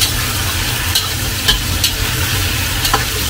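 Chicken stir-fries in a wok with spices, Sichuan peppercorns and green peppers, giving a loud, steady sizzle with a few sharp scrapes and clanks of a spatula tossing the pieces, up close and without speech.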